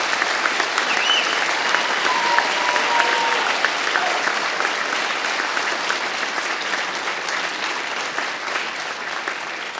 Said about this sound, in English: Ladies and gentlemen, a round of applause for the firefighters.